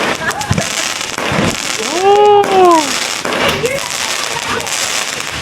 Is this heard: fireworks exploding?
yes